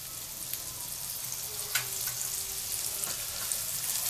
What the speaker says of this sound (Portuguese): Aqui nós vamos deixá-lo fritando um pouquinho aqui no azeite